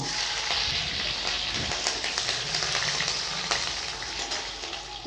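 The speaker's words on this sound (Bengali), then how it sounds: "তেল গরম হয়ে গেছে কড়াতে আমি কালো সরষা দিয়ে দিচ্ছি কারি পাতা দিয়ে দিচ্ছি লঙ্কা কুচি" Black mustard seeds, curry leaves and chopped chilli dropped into hot white oil in a kadai, giving a steady crackling sizzle with scattered pops, fairly close and continuous without talk.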